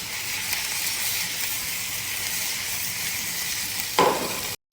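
Chicken 65 frying in a pan with garlic, a steady hissing sizzle with a louder burst of spitting near the end before it cuts off.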